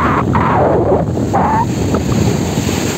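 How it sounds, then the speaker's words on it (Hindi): Sea waves and strong wind at Aksa Beach, Mumbai, with steady surf roar and heavy wind buffeting the microphone, plus a few faint voices in the background. "बहुत मजे कर रही, लहरें आ रही हैं भाई।"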